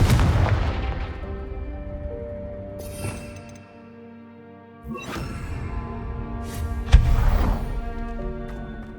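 Confringo fire spell from Hogwarts Legacy explodes with a deep booming blast and whoosh, followed after a short lull by further loud bursts and a sharp crack.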